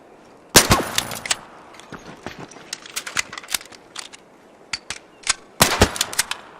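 Gunfire in the video game ARC Raiders: sharp, close bursts and scattered individual shots crackling irregularly over a low background, with heavier volleys near the start and end.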